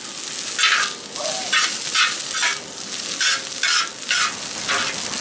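Pork lo mein with carrots stir-fried in a discada cowboy wok, a steady loud sizzle broken by rhythmic scraping strokes of the spatula roughly every half second, close up with no talking.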